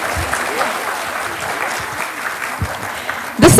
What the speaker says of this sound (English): Let's give ourselves a huge round of applause.